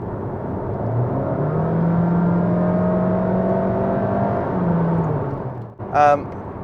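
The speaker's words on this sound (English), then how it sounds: "You've got this absolute cacophony of noise as the revs go up" A 2022 Honda HR-V 1.5 hybrid with eCVT revs hard, its engine droning loud and steady at high revs from inside the cabin, easing off near the end before a short burst of speech.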